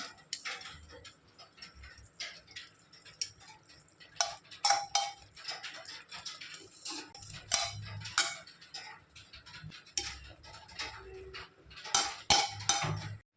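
Cooked rice tipped and layered into a pot of ready gravy, with clinking spoon and pot contact, light scraping and soft taps in uneven bursts, close and fairly quiet with no talking.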